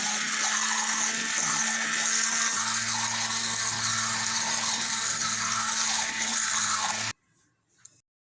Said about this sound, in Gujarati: હવે આપણે આમાં બ્લેન્ડર ફેરવી દેવું